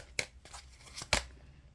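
Tarot cards are shuffled by hand in a few quick bursts, crisp riffling and slapping strokes close up with short pauses between them, the last burst loudest.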